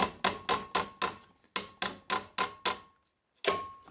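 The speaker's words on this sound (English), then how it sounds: "just knock the nail through until it's just coming through" Rapid, even hammer blows driving a copper nail through wood in traditional boat building, about ten sharp knocks in quick succession, a brief pause, then one final strike.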